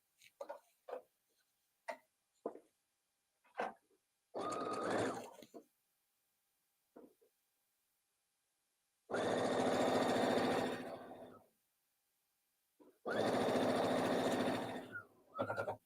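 A sewing machine stitching through many thick layers of fabric while making a memory bear, loud whirring runs of several seconds each, separated by silence and a few sharp clicks.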